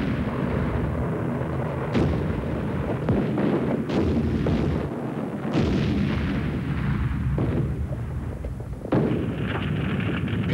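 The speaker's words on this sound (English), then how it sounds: "The Japanese Air Force drops its bombs indiscriminately on the civilian population." Bombs from the Japanese Air Force explode over a city, a dense and constant roar of blasts and booming detonations with heavy rumble and no voices.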